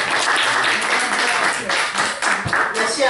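An audience claps in a dense, sustained round of applause at a public event, fairly loud, with a few sharper claps standing out near the end.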